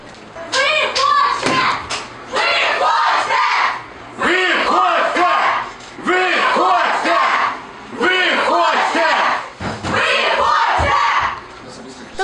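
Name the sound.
crowd shouting at official to leave office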